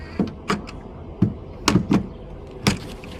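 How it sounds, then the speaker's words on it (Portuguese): Charging port door on a Tesla Model 3 SR+ clicking open, a series of short sharp mechanical clicks and clunks spaced irregularly, close and fairly clear with no talk. "Vou abrir a porta de carregamento"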